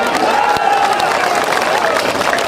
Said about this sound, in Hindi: ठोक दे ताली ठोक